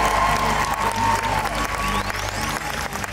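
An audience applauds and cheers for performers costumed as teacups at a Disney D23 Expo masquerade, dense continuous clapping with scattered whoops, loud and close, with a faint tone rising underneath.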